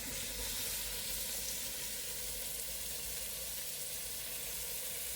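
Chicken pieces frying in hot oil in a pot cooked inside a parked lorry, a steady, dense sizzle running evenly throughout with no voices.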